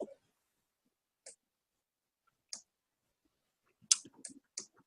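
Computer mouse clicks while working in UV unwrapping software: a lone click, then another, followed by a quick cluster of several sharp clicks near the end, each short, crisp and close against near silence.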